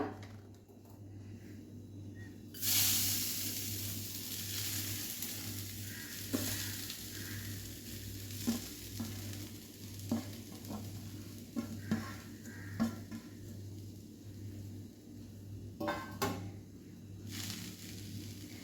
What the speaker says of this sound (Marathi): मॉइश्चर कमी होईपर्यंत आपल्याला हे आता सतत ढवळून घ्यायचं आहे